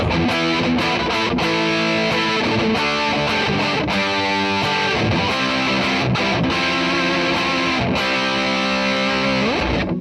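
An electric guitar through a Caline CP-27 Sandstorm distortion pedal, heavily distorted, playing dense, sustained chords and riffs, loud and continuous throughout.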